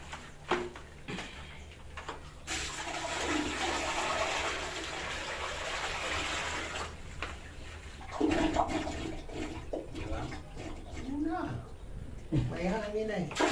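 Water pours and rushes into a newly installed toilet bowl, a steady gushing for several seconds that then fades, with people talking nearby at the end.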